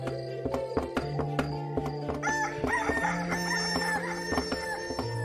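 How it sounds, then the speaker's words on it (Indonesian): A rooster crows in a drawn-out call, with sharp rhythmic pounding of a pestle in a mortar and other clucking fowl around it, all fairly close. "Memukul alu ke lesung hingga membuat ayam jantan berkokok."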